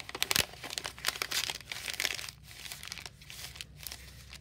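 A sheet of typed paper is crumpled up by hand, giving close, crackling bursts of crinkling that are loudest at first, then fade into softer, scattered crunches.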